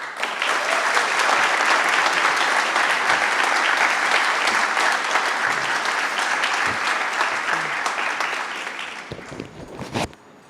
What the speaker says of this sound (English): Give me a huge round of applause for our advocate in Albany